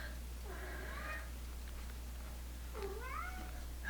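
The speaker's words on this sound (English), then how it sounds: "my cat is currently howling at me in the hallway" A cat howls in a hallway, two drawn-out wavering meows a couple of seconds apart, faint and somewhat distant over a low steady hum.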